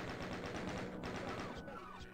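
Dual chaingunner enemies in Doom 2 fire their chainguns in a rapid, continuous rattle of close, loud shots, the stream broken by a couple of brief pauses.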